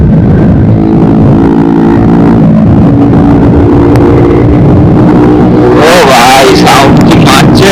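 A TVS Ntorq scooter's engine roars loudly and continuously at close range, rising in pitch as it revs harder toward the end, with wind rush over the sound.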